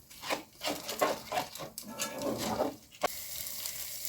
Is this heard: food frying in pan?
yes